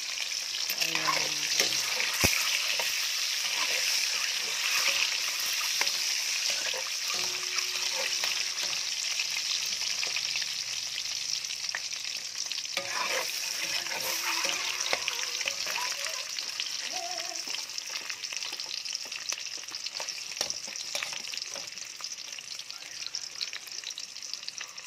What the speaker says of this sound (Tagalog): napiprito-prito ko na yung itlog na nilaga.